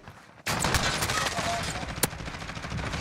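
Video game gunfire comes in loud and sudden after a brief quiet start, a dense rapid burst that keeps going, with one sharper crack standing out near the two-second mark.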